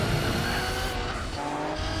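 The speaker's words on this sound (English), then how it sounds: "the back end slipped out when it hit the brakes. It was a really aggressive snap over steer incident" Tires squeal and skid as the back end snaps out under braking in Gran Turismo 4, a loud continuous screech over roaring engine noise that fades slightly partway through, with no voices.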